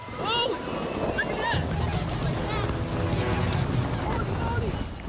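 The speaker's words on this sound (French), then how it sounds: "Le vent s'est levé et une dizaine de grands parasols s'est fait emporter dans les airs." Strong wind rushes and buffets continuously outdoors, with a loud steady roar and faint chirping tones in the background.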